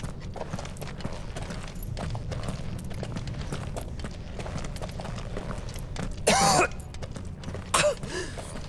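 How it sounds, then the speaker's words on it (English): A character in a Final Fantasy XVI cutscene coughs twice, two short rough bursts a second or so apart, rising out of a steady low ambient background with no talking. "Because of the cough."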